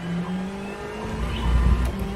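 A Ferrari Challenge race car at Road Atlanta opens to full throttle onto the back straight, its engine a loud, sustained harmonic drone that swells toward the end, with no voices over it.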